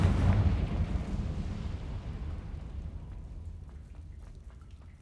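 Confringo, an explosive spell in the video game Hogwarts Legacy, goes off as a heavy, booming blast up close, then rumbles and crackles away into a fading tail of small debris ticks.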